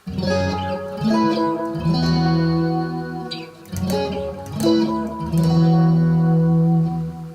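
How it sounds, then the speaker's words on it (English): Heavily processed electric guitar through a Decibel Eleven Pedal Palette Hot Stone Deluxe, modulation and delay in switched order, swirling modulation and trailing echoes, chords ringing out and repeating behind themselves, loud and continuous. "Let's switch the order of the modulation and the delay."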